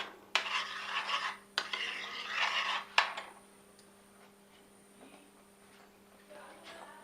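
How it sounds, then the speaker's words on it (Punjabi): Dry pasta tipped into a pan of white sauce with black pepper and black salt, bursts of rattling and scraping against the pan, then quieter stirring and faint kitchen clatter. "ਹੁਣ ਆਪਾਂ ਪਾਵਾਂਗੇ ਆਪਣਾ ਪਾਸਤਾ"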